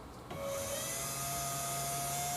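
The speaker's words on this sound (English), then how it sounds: "Now the spindle's running" A CNC router spindle on a bass guitar inlay machine spins up, a short faint hum giving way to a steady high whine that holds constant, close by with no talk.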